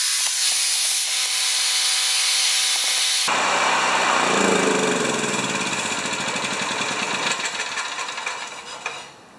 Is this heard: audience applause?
no